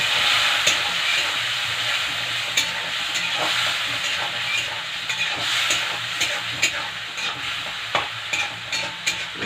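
Food sautéing in a hot pan with a small splash of water, giving a steady close sizzle broken by sharp scraping stirs and occasional crackles, with no voices.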